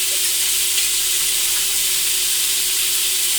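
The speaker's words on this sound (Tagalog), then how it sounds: "Sasaute natin yung ating pork meat" Pork meat sautéing in a pan for pancit bihon gives off a steady, bright sizzle and hiss that stays close and even throughout, with no talking.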